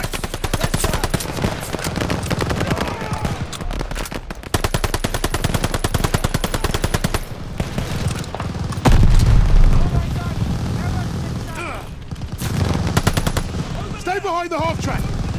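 Relentless gunfire in the Call of Duty Vanguard video game, with dense machine-gun bursts and booming blasts in a wartime battle, loud and continuous, with shouted voices under the din.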